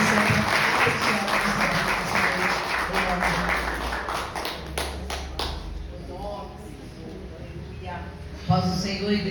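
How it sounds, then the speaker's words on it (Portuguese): A church congregation at a women's congress claps to welcome a missionary: a dense round of applause fades over several seconds, and a voice takes over as it dies away. "Quero que vocês recebam a missionária com palmas aí, bem linda"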